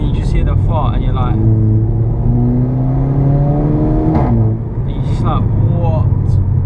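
A straight-piped VW Polo GTI exhaust drones and rasps loudly as the car is driven, with rising and falling engine pitch while a person talks over it.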